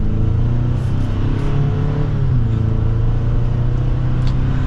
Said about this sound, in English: And we'll give it another slight acceleration.